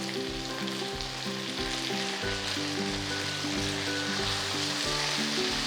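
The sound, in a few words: eggplants with stems frying in pan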